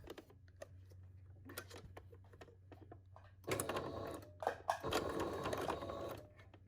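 A sewing machine runs stitches around a homemade filter mask: soft ticking and clicks at first, then two louder, continuous stitching runs close by.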